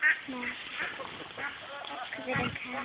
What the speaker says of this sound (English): he's frustrated because the geese bully him, so he bullies the smaller ducks.